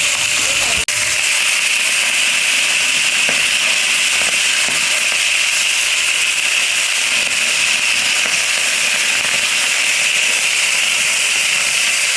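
Steady, loud sizzling hiss of food frying in a pan, continuous throughout, with one sharp pop near the start.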